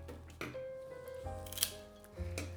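Scissors trim Pennisetum grass stems for a flower arrangement, making a few crisp snips spread over about two seconds, close and fairly quiet in an otherwise calm room, with no speech.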